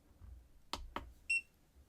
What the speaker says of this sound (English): every time we push one of these buttons,